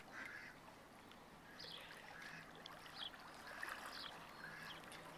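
Ducks quack in a few faint scattered bursts outdoors beside a stream, carried over a steady rushing water and wind background with no talking.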